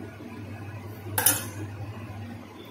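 A spoon clinks against a pot while mango pulp is mixed into semolina and milk, one brief bright scrape-and-clink burst over a low steady hum, otherwise quiet.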